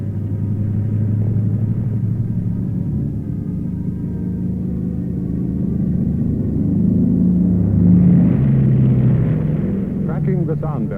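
Deep, steady engine rumble of the Bell XS-1 rocket aircraft droning continuously, swelling slightly louder toward the end, with a voice speaking over it.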